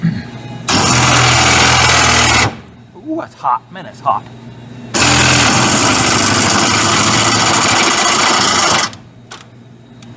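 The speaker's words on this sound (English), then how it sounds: "All right, let's drill this one out." A power drill whines loudly drilling out metal on a 1965 Chevy C10 in two long sustained runs, with a short pause between where a person speaks briefly.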